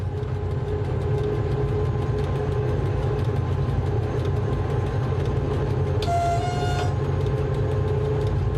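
A diesel locomotive pulls away from a station with a steady, loud engine drone and rolling rumble, with a brief horn-like tone midway.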